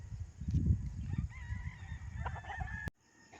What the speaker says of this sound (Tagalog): ang ganda ng manok